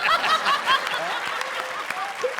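Audience at an Indian TV comedy show clapping with scattered chuckles and laughter, a lively continuous burst from a studio crowd.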